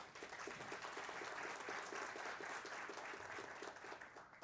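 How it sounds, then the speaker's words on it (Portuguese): Audience applause at a metrology and hydrometeorological monitoring conference, a steady dense patter of many hands held at an even level for several seconds with no voices over it. "Uma salva de palmas"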